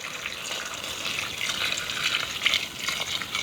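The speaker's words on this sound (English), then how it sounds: "I'm going to be adding water." Water pours steadily into a cooking pot while rice and stew are being cooked. The stream makes a close, continuous hissing gush with no break.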